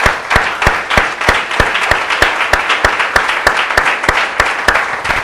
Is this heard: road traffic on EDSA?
no